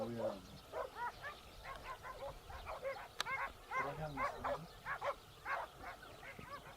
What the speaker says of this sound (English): The pack of dogs kept searching.